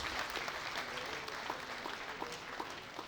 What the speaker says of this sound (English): Let's give him another round of applause as he departs.